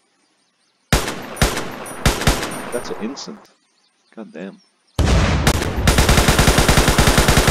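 An armored transport's cannon in the Unturned video game fires a few sharp, loud blasts, pauses, then lets off a rapid, steady string of shots, with someone talking briefly between bursts.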